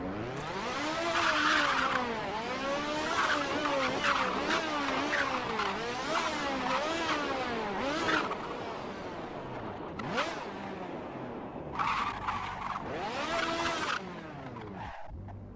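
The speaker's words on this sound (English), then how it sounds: "I'm just going to go ahead and drive over to the start-finish line" A car in the BeamNG.drive racing game revs hard and steadily through repeated gear and throttle swings, its engine wailing up and down with bursts of tire squeal, loud and continuous with no talk over it.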